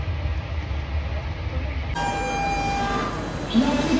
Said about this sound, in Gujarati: વસાઈ રેલવે સ્ટેશને છીએ